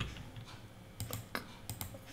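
Soft, close clicks of a computer keyboard while editing an email in Microsoft Outlook: a few quiet, scattered keystrokes over a faint background hum.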